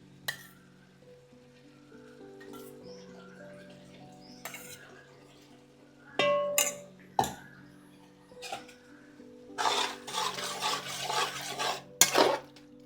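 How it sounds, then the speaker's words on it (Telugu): A spoon mixing yogurt into prawn biryani masala in a pan, giving intermittent scraping and clinking, with louder stirring bursts toward the end over soft background tones. "పెరుగు వేసేసి మంచిగా మిక్స్ చేసేయాలి."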